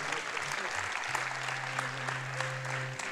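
Steady applause from an audience welcoming a red-shirted team onto the stage at a developer conference closing keynote, a dense wash of clapping held at an even level throughout, with a sustained tone sounding beneath it.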